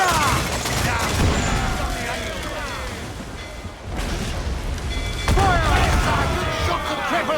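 Ship cannons firing in a naval battle in Assassin's Creed IV Black Flag, booming in a steady barrage of repeated volleys with crashing impacts, as a crew shouts orders over the gunfire.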